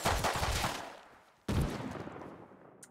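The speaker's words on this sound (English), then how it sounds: "I shot you." Gunfire in the Rust video game arrives in two quick bursts, each cracking sharply and then fading into a decaying tail, fairly quiet overall.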